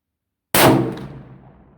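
A single sharp .416 Ruger rifle shot with a 400-grain brass solid slamming into an alternator, giving a loud close crack and metallic clang that rings and fades over about a second.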